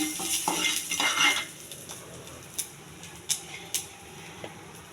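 Husked urad dal and cumin are stirred in a pan, first as a dense dry rustle, then as a few scattered, fairly faint spoon clinks against the metal.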